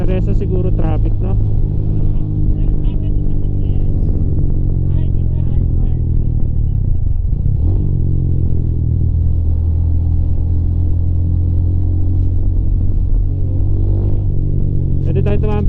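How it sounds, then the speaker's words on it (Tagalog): Road traffic near a curvy route on the way to a Laguna nature camp: a loud steady engine rumble with vehicles passing and revving, while people talk throughout. "Siguro traffic no."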